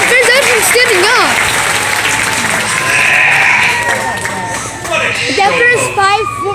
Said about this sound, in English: What do you mean you want some applause?